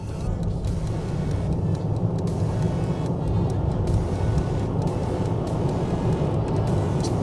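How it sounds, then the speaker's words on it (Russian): An iCar v23 all-wheel-drive car accelerating from 60 to 120 km/h, a steady in-cabin drone of engine, tyre and road noise that holds loud and even throughout. "Теперь проверим динамику ускорения с 60 до 120."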